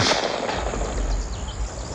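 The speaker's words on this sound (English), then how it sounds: "Gunshot. Way up in the swamp." A single distant small-caliber rifle shot echoes from far up in a swamp, a faint report and a brief rumbling tail under steady outdoor background noise, with no voices.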